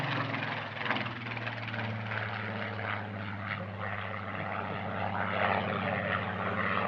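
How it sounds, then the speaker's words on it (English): A Spitfire PR-19 photo reconnaissance aircraft of the Rolls-Royce Heritage Flight flies at an airshow, its engine a steady, loud drone with a low throbbing tone that holds constant and fairly close throughout. "take a look at the second of the three Spitfires that participated in the flying programme"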